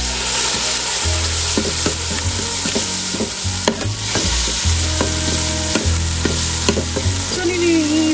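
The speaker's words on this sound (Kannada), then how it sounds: "ನೋಡಿ ಈಗ ಈರುಳ್ಳಿ ಕೆಂಪಾಗಿದೆ, ರುಬ್ಬಿಟ್ಕೊಂಡಿರುವಂತ ಮಸಾಲಾನ ಹಾಕ್ತೀನಿ." Ground masala is stirred into browned onions frying in a pan, a loud steady sizzle with repeated scraping of a spoon against the pan and no talking.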